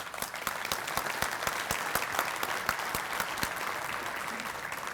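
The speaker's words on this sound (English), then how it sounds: "So big round of applause for Kyle Odd from Independence Bank." Audience applause at a morning breakfast event, a steady round of dense clapping with distinct sharp claps, moderately loud throughout.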